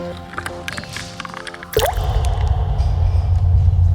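Water in a public bath-house shower: a few separate drips and splashes, then a sudden close, steady rush of running water that continues loudly to the end.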